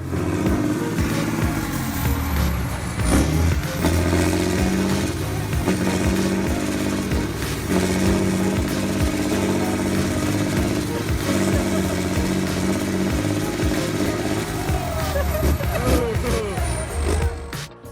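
John Deere and Fendt tractors strain against each other in a pulling contest, their engines droning loud and continuous with rough surging and revving throughout.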